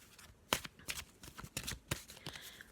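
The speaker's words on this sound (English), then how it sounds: "Just going to have a shuffle of the Mists of Avalon Oracle" Oracle cards riffled and shuffled by hand, a series of quick papery flicks and snaps arriving in irregular bursts, close and fairly soft, with no talking.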